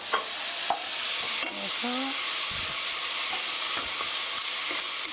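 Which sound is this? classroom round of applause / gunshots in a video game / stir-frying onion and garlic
stir-frying onion and garlic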